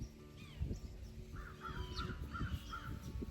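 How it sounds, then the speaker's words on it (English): Crows caw in the countryside over a garden, a run of four or five repeated calls at moderate distance over low outdoor background noise. "Listen to the birds."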